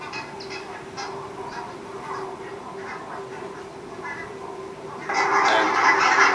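Geese foraging in a field give scattered honks and calls at moderate distance, with a sudden louder burst of noisy flock activity near the end.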